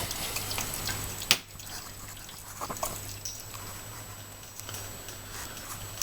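Homebrew amber ale wort flows from a small mini mash tun into a vessel as a faint, steady trickle and patter of liquid. A few soft clanks and handling sounds are heard nearby.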